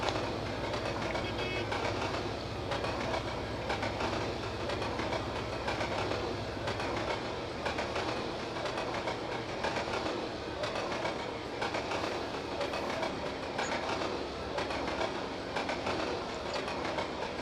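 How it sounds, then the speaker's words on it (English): A freight train in Trainz Railroad Simulator 2022 rolls past on a loop of the Riverton line, with a steady clickety-clack of wheels over rail joints and a continuous rumble of cars throughout. "Here, we'll let the train roll by here."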